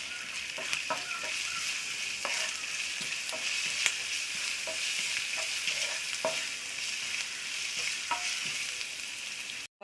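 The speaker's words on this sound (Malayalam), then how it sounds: "ഇനി നമുക്ക് ഇതിലോട്ട് ചെറുതായിട്ട് അരിഞ്ഞു വെച്ചേക്കുന്ന ഇഞ്ചിയും വെളുത്തുള്ളിയും ചേർത്ത് കൊടുക്കാം." Chopped ginger and garlic frying in oil in a pan, a steady moderate sizzle with scattered crackles and light stirring scrapes throughout.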